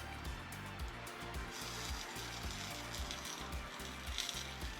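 Peppers, olives, mushrooms and other vegetables frying in a pan on medium-low heat, a soft continuous sizzle with faint crackles and a low rhythmic hum underneath, quiet and without talk.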